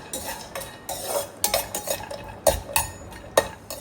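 Cashews and raisins frying in hot ghee while being stirred, with scraping stirs and sharp metal clinks of a spoon against the pan recurring close by over a soft background sizzle.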